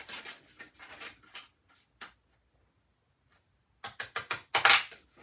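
Snips of Dollar Tree decorative-edge scissors cutting through paper, a few quick crisp cuts early on, a pause, then a run of louder close snips near the end, with no talking.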